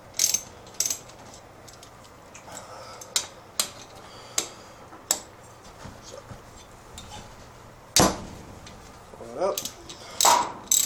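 Ratchet loosening bolts during a Briggs engine teardown, with intermittent clicking bursts and metallic clatter up close and someone speaking briefly.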